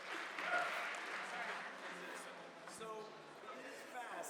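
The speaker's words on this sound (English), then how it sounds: "please give a huge round of applause for Adam Neumann" Audience applause for Adam Neumann at an entrepreneurship competition stage event, a steady wash of clapping through the whole stretch, with crowd chatter and voices mixed in.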